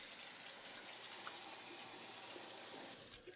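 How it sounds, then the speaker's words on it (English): Water from a tap runs steadily as an item is rinsed under it, a soft continuous splashing gush that fades slightly at the end. "What I'm going to do is just rinse it off"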